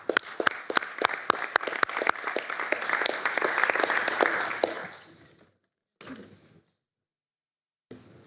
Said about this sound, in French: Merci beaucoup pour vos applaudissements si chaleureux.